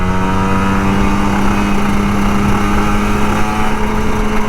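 An older Kawasaki Ninja RR 150 two-stroke motorcycle accelerates on an empty road, its engine a loud, steady, buzzing drone with a strong harmonic whine and constant wind rush throughout.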